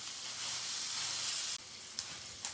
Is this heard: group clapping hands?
no